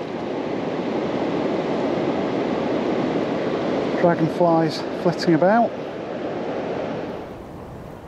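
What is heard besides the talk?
turbulent river water below a weir on the Thames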